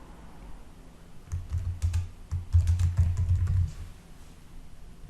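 Someone types a short entry on a computer keyboard: a quiet opening, then a burst of quick, close key clicks in the middle that fade out near the end.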